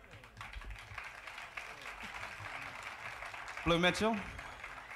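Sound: audience applause for the trumpeter at a live jazz concert

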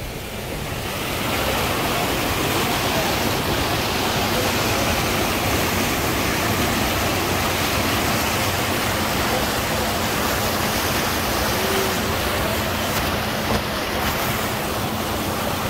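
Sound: river water during a river crossing

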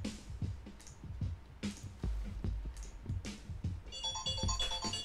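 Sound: phone ringing

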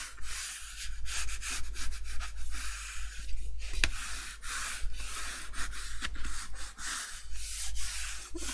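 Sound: squeegee pressing down paper in a craft project

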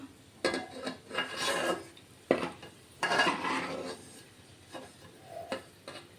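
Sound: fried onions being taken out of the pan

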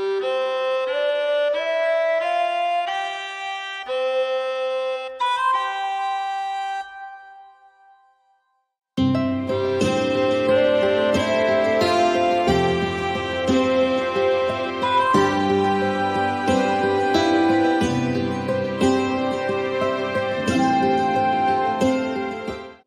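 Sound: Emberton ivory flute layered with Waves Factory melodica

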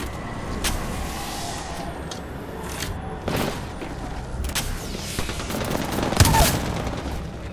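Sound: gunfire from enemies in video game Apex Legends

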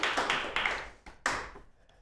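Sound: audience applause

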